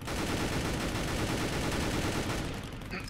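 Gunfire in Roblox Mad City, a dense, continuous rattle of rapid shots that stays loud and steady throughout and thins out only slightly at the very end.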